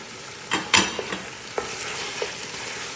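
A spoon stirs a spicy mixture with potato pieces in a pan for a Filipino-style kabsa, giving a few sharp scrapes and clacks over a soft sizzle, with no talk.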